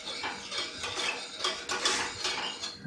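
A spoon stirs melted chocolate into coffee in a cup, quick close rhythmic clinks and scrapes against the sides, quiet and repeated over a few seconds.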